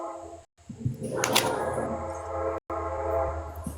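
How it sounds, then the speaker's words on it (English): A train horn sounds through a continuous low rumble of a passing train, loud and sustained for several seconds, with brief dropouts and a few faint voices underneath. "Let's see if the train will wake her up."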